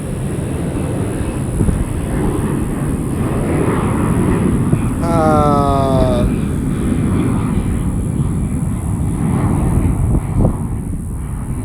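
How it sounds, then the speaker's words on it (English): A steady roar of an airplane passing overhead, broad and rumbling, holding throughout with little change in level. "yes, that was a plane that you hear."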